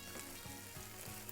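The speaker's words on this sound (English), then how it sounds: "They're sizzling." Chicken wings sizzle steadily in a hot pan, a dense crackling hiss close by, with a few soft stirring or shifting sounds.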